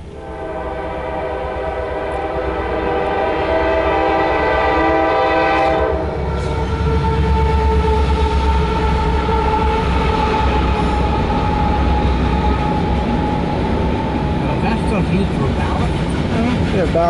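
A loaded CSX rock train rolls past close by, its horn sounding in long loud blasts for the first several seconds, then a steady heavy rumble and clatter of freight cars continues at high volume, with people talking nearby.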